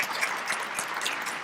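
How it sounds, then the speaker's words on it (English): An audience at a 2014 Affordable Care Act forum applauds a panel, a brief, even burst of many hands clapping together. "please join me in a round of applause thanking our panel for coming this morning."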